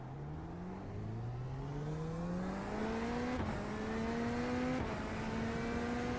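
Corvette GT3 race car engine at Circuit de Barcelona in a racing sim, revving up through the gears with rising whine, brief dips at two shifts, steady and close with no talk.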